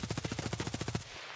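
Rapid automatic gunfire in Escape from Tarkov, about a dozen evenly spaced shots in a quick burst lasting roughly a second, then cutting off to quiet background.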